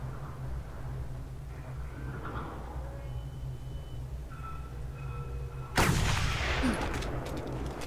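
A single sharp, loud gunshot rings out from Mad Max gameplay over a steady low engine drone, with faint scattered game effects before it and a decaying rumble after.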